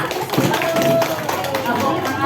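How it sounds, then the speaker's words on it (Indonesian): A group of adults in a classroom-style teacher training session clap together, a fairly dense burst of applause with voices talking over it throughout. "tepuk tangan dulu untuk kita semua"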